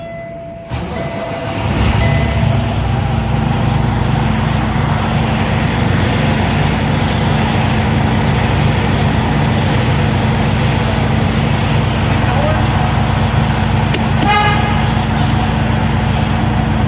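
A truck engine at a TA truck shop in Dansville, NY turns over and fires at about one second, then settles into a loud, steady, rumbling idle close by that runs unbroken to the end, with no talk over it.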